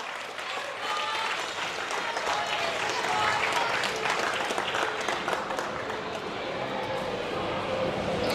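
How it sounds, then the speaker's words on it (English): An audience applauds the Queensland podium at a youth climbing finals, with steady, dense clapping that swells through the middle and carries on under a voice talking over it. "Let's put those hands together for that Queensland podium."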